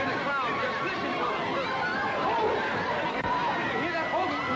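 Old-film crowd at a riot makes a dense, steady babble of many excited voices, with continuous chatter and scattered shouts close around.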